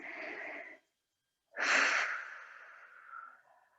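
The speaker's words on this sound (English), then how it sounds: "let's take one more deep breath here" Two slow, deep breaths during a guided stretching exercise, a short inhale followed after a pause by a longer audible exhale, close and fairly quiet with no talking.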